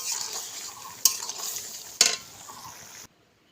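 Ridge gourd curry stirred in a pan, a soft sizzle with two sharp scrapes of a spoon against the pan about a second apart, close by, before the sound cuts to silence.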